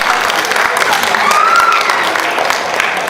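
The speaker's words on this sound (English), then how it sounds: "Give me a clap in the audience if you've seen the movie Selma." An audience at a Women's History Month tribute claps together in a full, continuous burst of applause, loud and close with no talking over it.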